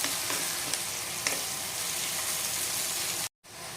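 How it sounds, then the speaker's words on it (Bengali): Onions fry in a pan with a continuous, even sizzle at moderate loudness and occasional stirring taps, cut by a short silent break just before the end. "পেঁয়াজটা কিন্তু ভালো মতো ভাজতে হবে অল্প সময় নিয়ে, যতক্ষণ না পেঁয়াজটা রং ধরতেছে"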